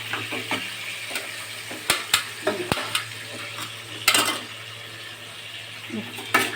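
Garlic and green chilies fry in a pan for chicken kosha, a steady sizzle broken by sharp spatula clicks and metal clinks against the pan, close up, with no talking.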